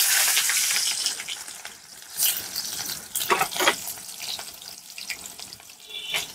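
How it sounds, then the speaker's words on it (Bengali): Chopped onion dropped into hot mustard oil in a pan while frying mustard greens, giving a broad, steady sizzling hiss that swells in a few louder bursts as the pieces hit and are stirred. "এই কেটে রাখা পেঁয়াজটা সামান্য দিয়ে দেবো শাকের জন্য তেলের উপরে"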